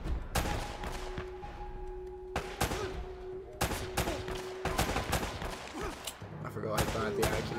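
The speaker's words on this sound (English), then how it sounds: "People are shooting you." Enemy gunfire in the video game Uncharted: Drake's Fortune, repeated loud cracking shots and bursts with irregular spacing, heard alone without talk over it.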